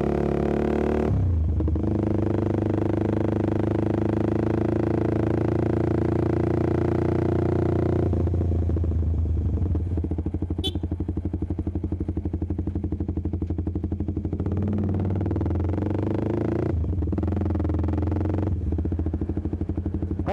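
A motorcycle fitted with a short Proliner TR-1R exhaust silencer revs hard, its loud, rough, crackling engine note rising and falling through repeated throttle blips, close and with no talking.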